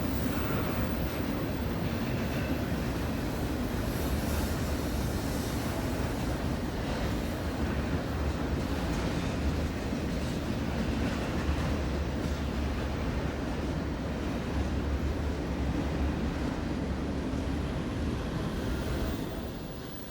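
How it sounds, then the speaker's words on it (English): A long BNSF double-stack freight train rolls steadily past at Carkeek Park by the water, a dense, unbroken rumble and rattle of cars holding at the same loudness without voices. "Like I said, this is one long train."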